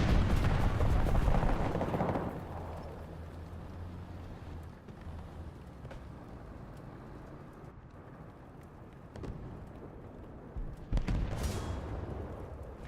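Loud, rapid bursts of PGZ-88 twin anti-aircraft autocannon fire in War Thunder ground battle, a heavy rumbling volley at the start that fades, then scattered distant booms and a sharp blast near the end.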